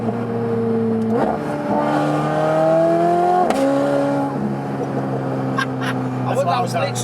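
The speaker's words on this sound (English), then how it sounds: "if you put the back window down and you play the throttle" A car exhaust revs as the throttle is blipped, rising and falling engine tones in a couple of distinct pulls heard from inside the moving car with the back window down, fairly close and loud.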